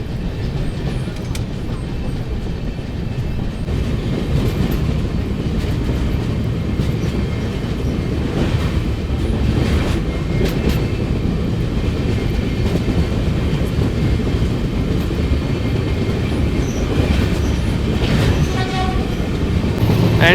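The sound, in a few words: Janmabhoomi Express train crossing Godavari river bridge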